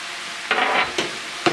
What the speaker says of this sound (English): I'm going to go ahead and throw the garlic in now.